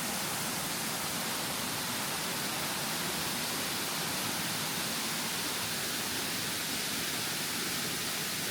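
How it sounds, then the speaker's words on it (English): A distant 35-foot waterfall at Ludlowville Falls gives a steady, even rush of white-noise hiss that never changes or pauses, with nothing else standing out above it. "This is all you can make of the waterfall."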